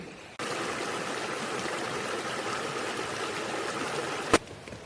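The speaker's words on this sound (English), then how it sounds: "Water streams flowed beside us" A water stream rushes steadily beside a nature trail in Horton Plains National Park, Sri Lanka. The flow is a continuous close hiss after starting abruptly, and a brief sharp knock sounds near the end.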